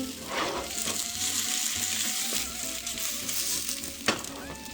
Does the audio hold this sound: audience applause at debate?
no